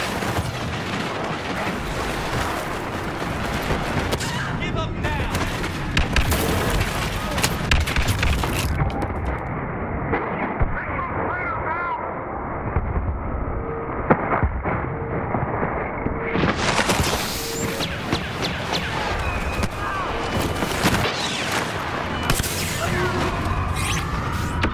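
In the Star Wars Battlefront game, Y-wing bombers drop explosions that roll into a dense, loud barrage of booms and blasts over continuous battle noise, with a brief muffled stretch midway.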